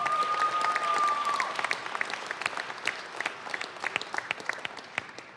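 Audience applause for the sponsors at the Green Bay Packers 2024 schedule release event, a dense round of clapping that starts full and thins toward scattered claps, with a brief whistle-like tone early on.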